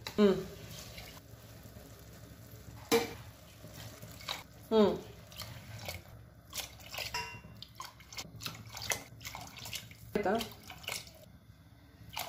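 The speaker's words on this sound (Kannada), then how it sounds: "ಇವಾಗ 4 ಕಪ್ಸ್ ರೈಸಿಗೆ ನಾವು 8 ಕಪ್ಸ್ ನೀರು ಹಾಕಬೇಕು." Water is poured into four cups of rice in a pot for ghee rice, a splashy pour with intermittent clinks and clatter, while a person talks over it.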